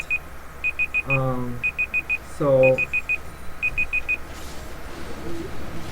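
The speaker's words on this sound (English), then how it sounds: "that's my timer" An electronic timer beeps in quick clusters of four high pips, repeating steadily over background game sounds, with a short spoken word near the end.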